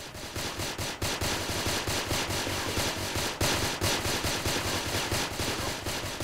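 Rapid, relentless automatic gunfire from a powerful special weapon in a shooting video game, loud, dense bursts with brief gaps, no talking.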